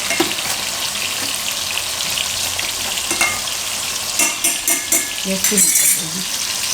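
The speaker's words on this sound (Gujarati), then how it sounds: "આમાં એકવાર ચમચો ફેરવેલા હે" Food sizzles and fries steadily in a pan, a tomato mixture for farali kadhi pakoda, while a ladle scrapes and clinks through it in short bursts toward the end.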